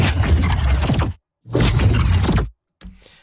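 Noisy, shattering sound-design layer for an animation: three harsh broadband bursts, the first two about a second each and the third brief and fainter, separated by silence.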